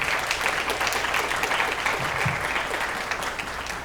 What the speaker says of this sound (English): So big round of applause for all of our speakers.